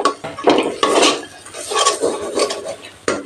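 Spice paste for a Bengali prawn curry stirred and fried on low heat in a kadai, with steady metal spatula scraping and clanking against the pan over a soft sizzle, close and fairly loud, no voices.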